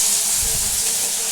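Onions frying in a pan for a Bengali doi potol dish, giving a loud, dense, continuous hissing sizzle close up with no talk.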